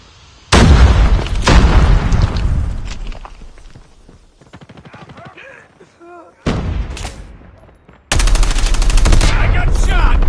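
Call of Duty Mobile gunfire erupts in loud, close bursts of automatic shots, dropping to quieter stretches before a final heavy volley, with brief game voice lines in between.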